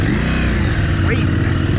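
Adventure motorcycles pulling away on a dirt power-line trail, a steady loud engine drone filling the short stretch while a voice talks over it.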